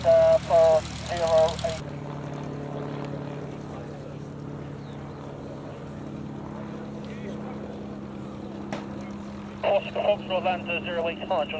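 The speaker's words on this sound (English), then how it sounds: "Is now taxiing into its taxiway to pick up another passenger." A vintage light propeller aircraft taxis at a vintage flying weekend airfield, its engine a steady low drone throughout, with people talking over it at the start and near the end.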